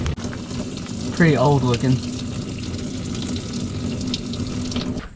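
Fluid drains from an old Toyota Land Cruiser during a tune-up, a steady broadband splashing and trickling that runs the whole time, with a brief spoken comment partway through.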